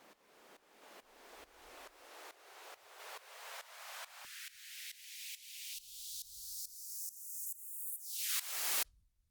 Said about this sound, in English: Your own self-made riser